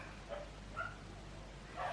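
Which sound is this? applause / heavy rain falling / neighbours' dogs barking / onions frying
neighbours' dogs barking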